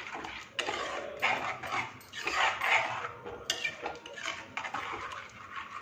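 A ground tomato mixture stirred in a cooking pan, with repeated scraping and sizzling strokes at an uneven rhythm, close and fairly quiet, with no talk.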